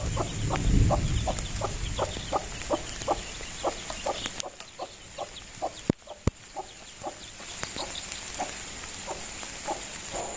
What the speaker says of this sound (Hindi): हमारे मुर्गी के चूजे जो है वो बैठे हुए हैं